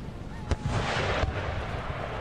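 A cannon booms in an Empire: Total War battle, a single sharp report followed by a broad rolling rumble that cuts off after about a second, over low battlefield noise.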